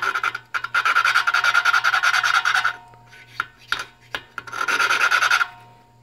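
Suction cup valve-lapping tool rubbed back and forth on a small engine valve seat, giving loud gritty rasping strokes in two long bursts separated by a pause with scattered clicks and taps.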